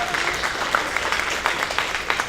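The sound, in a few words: audience clapping for poetry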